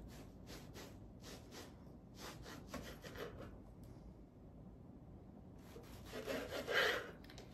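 A serrated bread knife sawing through the ends of an angel food cake, soft rhythmic rasping strokes close by, followed by a pause and a louder scrape near the end.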